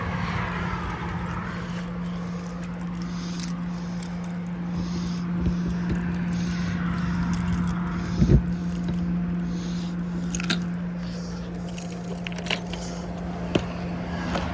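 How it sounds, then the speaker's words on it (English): Keys jangle and clink on and off for a long stretch while an RV storage compartment on a new 2025 Highland Ridge Open Range fifth wheel is unlocked, with a steady hum underneath and a few sharp metallic knocks. "let me get my keys out. We'll open this up for you."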